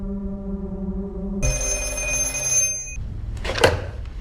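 An old telephone rings in a film scene, its steady tone running for a moment before a brighter, louder ringing takes over. A short rustling clatter follows near the end.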